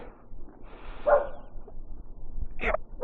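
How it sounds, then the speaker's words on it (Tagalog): A dog barks in the early-morning dark before a Kawasaki Ninja 1000 SX ride to Tagaytay, two short, fairly distant barks with a quiet pause between them. "Sobrang ingay ng aso."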